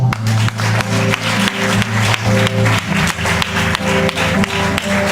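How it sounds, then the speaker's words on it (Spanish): A church congregation applauds during a Spanish-language worship service, loud, close clapping with a rhythmic, pulsing beat like a unison clap and a steady tonal hum underneath. "Démosle un aplauso al Señor."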